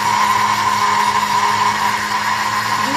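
A kitchen blender runs steadily and loudly, whirring a banana, dates and milk lassi for about a minute, with a constant motor drone and no talking.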